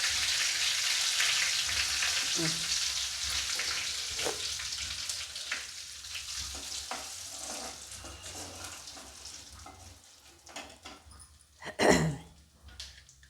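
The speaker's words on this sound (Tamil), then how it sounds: "இப்போ கருவேப்பிலை விட்டுப்போம் கருவேப்பிலை நல்லா பிடிக்கட்டும் பெருங்காயத்தூள் போட்டுப்போம்" Curry leaves and asafoetida crackle in hot oil for a green chilli pickle, a dense steady sizzle that slowly fades, then a sharp clattering burst near the end.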